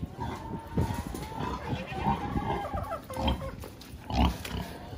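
Pigs grunting and snorting in short irregular bursts, close by, with a few squealing calls mixed in and some rustling.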